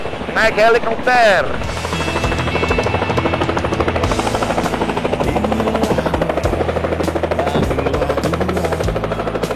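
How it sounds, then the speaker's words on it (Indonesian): A helicopter arrives at Krakatau Sarana Property in Cilegon carrying a guest, its rotor thudding loud and close in a steady fast pulse, with people talking near the start. "Ini tamu gua. Naik helikopter."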